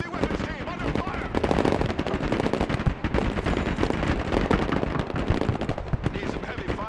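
Dense, continuous machine-gun fire from a Broken Arrow military battle game, rapid overlapping bursts at steady high loudness with distant booms mixed in, and a voice talking over the shooting.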